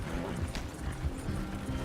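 Horses' hooves clip-clop in the Western video game Red Dead Redemption 2, a steady, moderately close trot with a low rumble of movement underneath.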